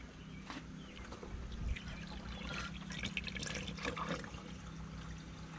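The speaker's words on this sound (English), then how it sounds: "Putting coolant in." Coolant pours into the engine of a Ford Mustang GT as a faint, continuous trickle and splash heard up close over a low background hum.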